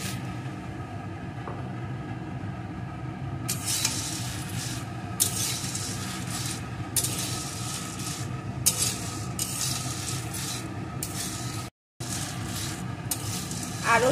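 Whole coriander and spices frying in a pan, with a steady low sizzle under bursts of scraping and stirring that come in uneven strokes through most of the stretch, close by and moderately loud.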